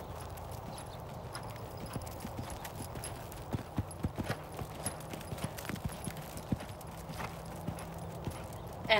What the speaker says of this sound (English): So we're into the canter and, you know, he looks pretty good for his left lead canter.